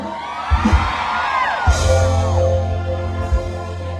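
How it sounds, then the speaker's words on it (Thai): A large outdoor crowd at a live stage show in Nakhon Si Thammarat, Thailand, cheers and screams continuously, with a few loud thumps from the stage and no talking. "ขอบคุณมากครับสำหรับ เสียงปรบมือนะครับเสียงกรี๊ดเดียว"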